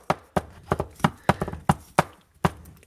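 Sharp clicking and knocking sounds repeat at an uneven pace, close by, from the ratcheting handle of a RIDGID 2A tubing cutter being worked back and forth on galvanized steel pipe.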